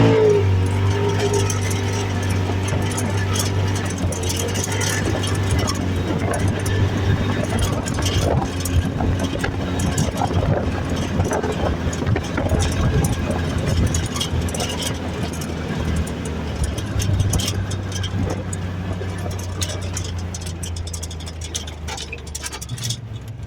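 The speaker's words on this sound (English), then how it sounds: "A 2021, it actually might even be a 22, Polaris RZR ProXP, which is a turbo parallel twin, and this is the 4-seater version" A turbocharged parallel-twin engine in a 2021 or 2022 Polaris RZR Pro XP four-seater drones steadily while driving off-road, a low constant rumble under someone talking throughout.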